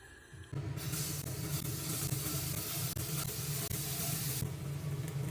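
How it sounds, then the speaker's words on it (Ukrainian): Steady, loud sizzling of meat cutlets frying in a hot dry pan without oil, a continuous hiss that starts abruptly and runs throughout. "далі буду смажити на сухій сковорідці без олії"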